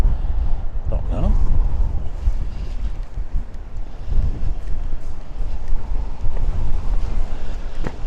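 Strong gusting wind from Storm Babet buffets a microphone on the Blackpool seafront, a loud continuous roar with rising and falling blasts throughout.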